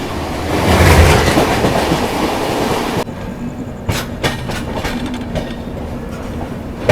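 Kushinagar Express rolling at night after overtaking a local train, loud rushing roar that drops suddenly to a steadier rumble with rhythmic wheel clacks on the rails, no voices.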